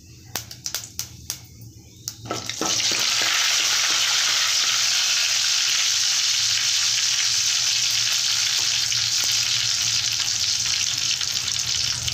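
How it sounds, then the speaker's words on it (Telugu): Tempering spices drop into hot oil with garlic and dried chilli. After a few sharp clinks and taps, a loud, sudden, continuous sizzle bursts up and holds steady, close to the pan with faint stirring beneath. "పోపు దినుసులు వేగాయండి"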